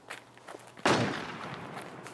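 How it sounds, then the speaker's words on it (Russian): Distant gunshot in the survival game Infestation: The New Z: one sharp report with a lingering echoing tail, following a few faint, soft knocks. "Слышу еще выстрелы"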